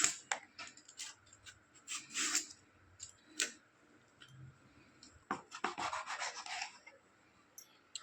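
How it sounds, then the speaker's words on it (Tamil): Skin being peeled off a white pumpkin in a home kitchen: a run of short, close scraping and rasping strokes in uneven bursts, with quiet pauses between them and no talking. "இப்போ இதை நான் தோல் சேவிக்கிறேன்"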